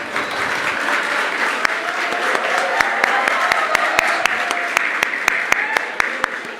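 Dense applause from a seminar audience, a steady wash of many hands clapping with a few sharp nearby claps standing out, sustained evenly throughout.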